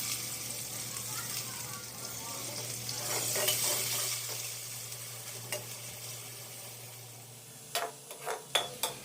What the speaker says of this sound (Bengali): তেল গরম হওয়ার পর এখানে আমি হলুদ লবণ মাখানো আলুগুলো হালকা করে ভেজে নেব